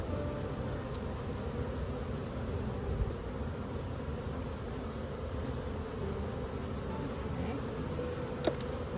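Honeybees buzz steadily in an open hive during a beekeeping inspection with supersedure and queen cells, a dense continuous hum filling the whole stretch with no talking.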